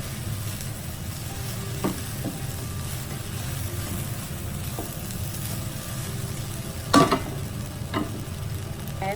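Nasi goreng fried rice stir-frying in a pan after salt and black pepper are added, with a steady sizzle and a few sharp scraping clinks of the spatula against the pan.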